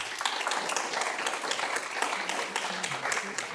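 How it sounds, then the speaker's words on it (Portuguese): Audience applause at a Christmas church service, a dense, steady wash of many hands clapping that fills the whole short stretch at an even, moderate level. "Recebam com a salva de palmas o Ricardo"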